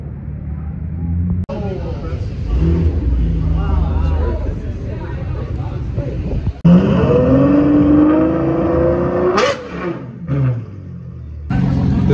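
Porsche 944 engine at a gas station car meet, idling under people talking, then a sharp loud rev that climbs in pitch and falls off, followed by further throttle blips amid crowd chatter.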